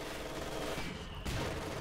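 Machine gun fire rattles through a war strategy game battle, a dense continuous clatter mixed with distant explosions, growing louder and fuller in the last half second.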